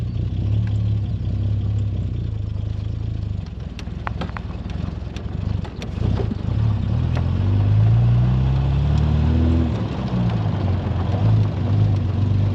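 A 1971 Triumph Vitesse classic car engine drones steadily while driving, its pitch rising and falling through a gear change, with a few clunks and rattles from the cabin along the way.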